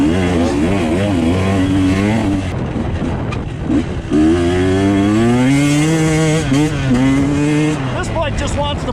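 A Husqvarna TE 150 two-stroke dirt bike racing in a hare scramble at Dade City, its engine revving loud and close with rising and falling pitch as it accelerates and shifts, continuous throughout.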